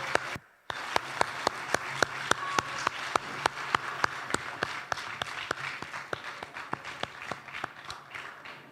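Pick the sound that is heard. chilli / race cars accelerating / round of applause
round of applause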